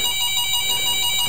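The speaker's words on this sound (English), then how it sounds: "Phone's ringing." An electronic telephone ringtone trills in repeated bursts, fairly loud and steady through the short span, with no talking over it.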